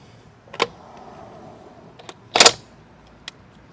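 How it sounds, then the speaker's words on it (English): A cordless impact wrench with a 32 mm socket works on the axle nut of a 2011 front-wheel-drive Dodge Avenger with a 3.6 litre engine, giving a few short, sharp rattling bursts close by, the loudest in the middle. "I'm then going to use a cordless impact that has a socket of 1 1/4 or 32 millimeters"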